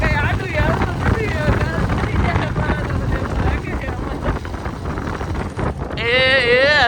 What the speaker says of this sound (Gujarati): ઠંડો પવન લાગે છે